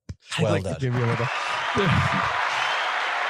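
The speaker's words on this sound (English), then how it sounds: "I'll give you a little bit of an applause on that one." A voice speaks briefly, then steady clapping from a small group takes over and continues evenly to the end, filling the rest of the moment during a football podcast's FA Cup gameshow.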